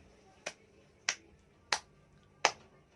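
A classroom of students gives four separate, evenly spaced group claps, each a crisp burst against a quiet background.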